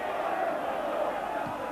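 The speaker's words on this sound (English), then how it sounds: "the crowds are still pouring into Ibrox here" A football crowd at Ibrox stadium makes a steady, broad murmur, a continuous roar of many distant voices with no single shout standing out.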